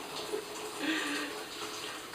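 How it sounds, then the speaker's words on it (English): Freshly boiled hot water poured into a pot for flat rice noodle soup, a continuous close rushing pour of even loudness, heard on its own. "I'll just add in hot water."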